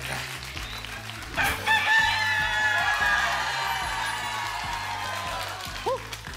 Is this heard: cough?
no